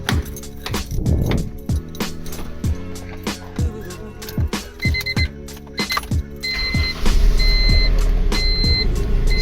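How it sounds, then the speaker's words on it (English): A Honda CR-V with a B16 engine starts up and idles roughly with a misfire, its low uneven engine tone running under a series of sharp knocks and clicks, while a repeating high electronic warning chime beeps steadily through the second half. "I'm going to show you what it looks like when I start up the CRV now"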